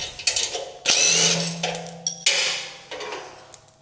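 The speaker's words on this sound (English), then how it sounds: "just gonna take these 4 bolts off" A hand ratchet clicks in short bursts while loosening bolts on the frame of a Mech Max SG24 stump grinder, close and clear, with several rapid ratcheting runs separated by brief pauses.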